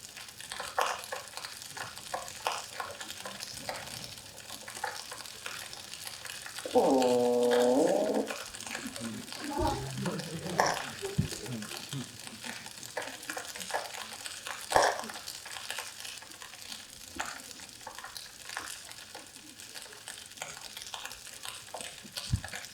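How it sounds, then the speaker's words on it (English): Fish calls picked up by a hydrophone under water in a marginal ice zone: a burst of rapid pulsed grunting in the middle, with scattered fainter clicks and knocks over a crackling, noisy underwater background. "this is also a fish, and it's pretty different from this one kind of cod fish family that I just played"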